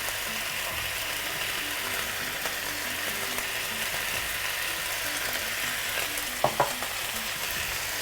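Squash and zucchini sauté in oil in a pan, a steady soft sizzle with a few clinks of a utensil stirring near the end.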